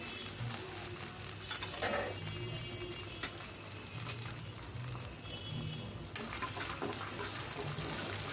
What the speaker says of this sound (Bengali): কাটা পেঁয়াজ, কাঁচামরিচ দিয়ে আমি নেড়ে চেড়ে ভেজে নিচ্ছি